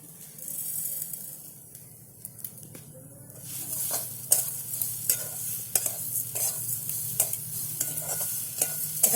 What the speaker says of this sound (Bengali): ভালো করে আস্তে আস্তে এইভাবে নাড়তে থাকবো